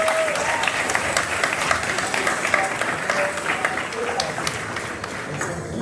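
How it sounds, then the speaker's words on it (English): A graduation ceremony crowd, there to honour the school's championship basketball team, gives a long, dense round of applause that holds strong throughout, with a voice faintly present underneath. "Please give them a round of applause."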